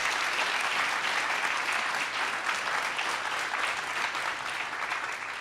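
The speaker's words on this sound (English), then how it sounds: "Let's give them another round of applause." An audience applauds a panel at a community event on fair housing, with dense, steady clapping that holds evenly throughout and tapers slightly at the end.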